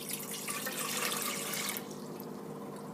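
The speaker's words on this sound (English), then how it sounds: "I'm going to go ahead and pour my 2 cups into this pot right here" Water poured from a container into a cooking pot for a yeast starter, a steady close splashing pour that cuts off sharply partway through, leaving a quieter trickle and hiss.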